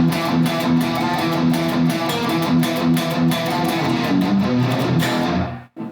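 A dense, loud electric guitar playing a riff with rapid chugging palm-muted rhythm, played steadily for several seconds before cutting off abruptly.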